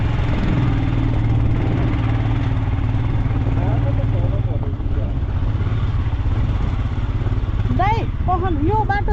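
A motorcycle engine runs steadily on a mountain trail toward a lake, a loud, continuous drone throughout, with people talking over it.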